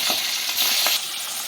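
Hilsa fish fry in hot mustard oil in a wok, a brief, bright hissing sizzle with a few small pops, close and steady, with no voices.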